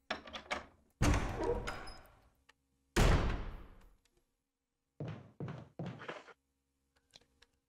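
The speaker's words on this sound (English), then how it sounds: "Her walking in this room sounds like there's a hollow floor thank underneath." Footsteps on a hollow floor in a Resident Evil game, several clustered heavy thuds coming in separate bursts with short quiet gaps between them, fairly close and clear with no talking.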